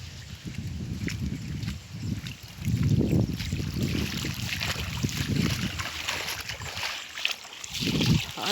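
Rainwater after three days of rain running out of flooded fields and across a road, a continuous rushing flow heard close and fairly loud with gusts of wind, no clear talk over it.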